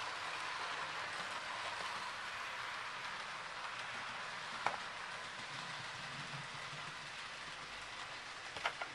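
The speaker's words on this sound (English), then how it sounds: "as we move the slider on the Samsung Galaxy Tab 2, then the train will move" Hornby model railway train running on a home layout controlled from a tablet via a Raspberry Pi, giving a steady soft whirring rumble with faint track clicks throughout and a couple of brief sharper clicks near the end, no talking.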